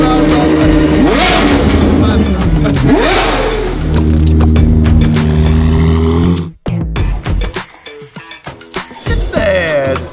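An 1800hp Novitec boat engine revs hard up close with a loud, rising roar, then the sound breaks off into uneven, fainter engine noise as it pulls away.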